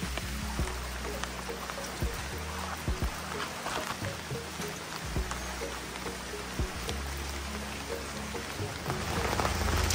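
Steady rain patters on a surface nearby, dense and continuous, with occasional heavier drops and low thumps.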